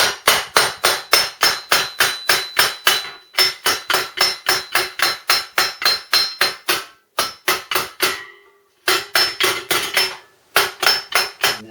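Metal rings sharply as it is hammered on a small homemade anvil cut from half-inch steel plate, a long run of rapid, evenly spaced blows broken by a few short pauses.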